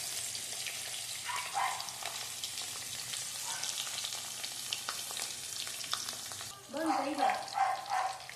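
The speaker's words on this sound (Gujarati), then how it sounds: "અને હવે આપણે પનીર તળવાનું છે। પનીર તળી દેવાના છે બધાને સરસ, થોડાક લાલ થાય ને તેવા।" Paneer cubes frying in oil in a home kitchen make a continuous bubbling sizzle that swells louder near the end as more pieces go in. Faint background noises sit under the frying.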